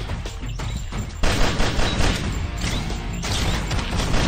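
Pistol shots in a zombie shooter game crack out in a fast, loud volley, sharp repeated reports with crashing impacts layered over a busy background.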